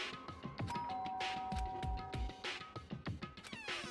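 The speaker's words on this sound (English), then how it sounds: "pressed the doorbell" A doorbell chime rings in the video game Danganronpa: Trigger Happy Havoc, a few clear tones set among background music and game sound effects.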